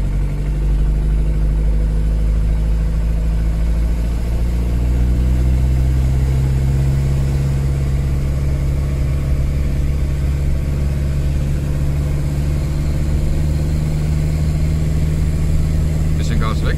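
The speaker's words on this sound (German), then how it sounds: "Ja, kein Auspuff dran, keine Haube drauf, hört sich lustig an." A car engine running with no exhaust fitted and the hood off, driving at quarter throttle while the automatic gearbox shifts; a loud, raw, steady drone fills the whole stretch with a subtle pitch change partway through.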